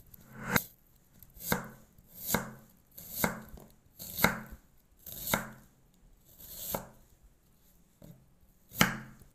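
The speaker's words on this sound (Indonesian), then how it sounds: "Kita akan potong-potong dadu atau kita cincang kasar ya teman-teman." A knife dicing an onion on a cutting board: about ten crisp, evenly spaced chops in a steady rhythm, close and clear with nothing else heard.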